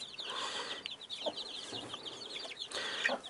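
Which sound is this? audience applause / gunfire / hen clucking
hen clucking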